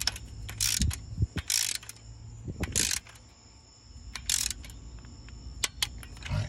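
Ratcheting clicks and metallic tool handling while bolts on a Dodge Durango engine oil cooler are torqued down, bursts of close, fairly loud ratchet clatter separated by quieter pauses.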